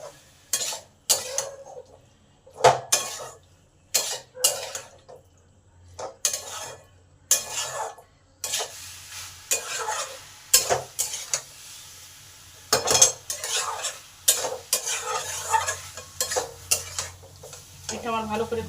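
Squash and tomato stir-fried together in a pan for a curry, with repeated bursts of metal spoon scraping and clinking against the pan over a steady sizzle, in a regular stirring rhythm with no speech.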